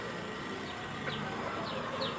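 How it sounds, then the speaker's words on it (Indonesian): Free-range village chickens peck at leftover rice in the morning, soft clucks and faint chirpy calls over a steady outdoor background hum, close but quiet. "Ini adalah sisa-sisa nasi yang diberikan kepada ayam-ayam ini."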